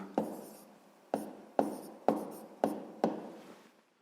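Pen or pencil writing fractions on paper by hand, heard as six short scratchy strokes, each starting sharply and then trailing off, close and quiet with no talking.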